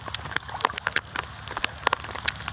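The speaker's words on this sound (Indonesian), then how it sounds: "Hujan jelah bro." Rain falls on a lake, with a busy patter of close, sharp drops striking the water and surroundings in an irregular rhythm at a moderate level.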